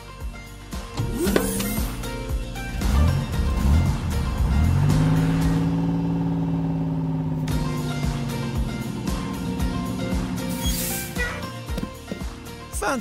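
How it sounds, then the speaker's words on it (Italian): A new car drives on a racing circuit, its engine revving up in rising and falling sweeps over a busy cartoon soundtrack, loud and close with a steady droning stretch in the middle. "Ho portato la mia nuova macchina."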